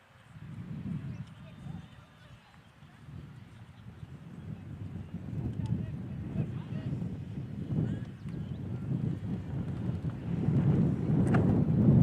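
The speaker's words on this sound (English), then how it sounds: "It's very windy up here, though, up on the streaming tower." Wind buffets a microphone atop a streaming tower at a softball game in uneven low rumbling gusts, growing stronger toward the end.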